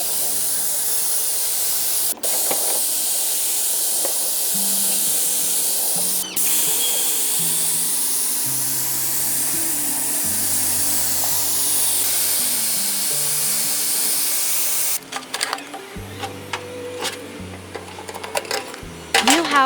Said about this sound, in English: She narrows the spray pattern for enclosed areas, achieving coverage without building excessive paint at the edges.